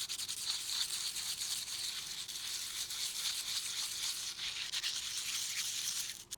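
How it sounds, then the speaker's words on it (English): Sandpaper rubbed back and forth on an e-bike brake pad to smooth its surface, a dense, rapid scratchy rasp heard close up and steady for several seconds before stopping abruptly. "We're just going to sand it down, and so it gives it the brake pad a little bit more even gripping."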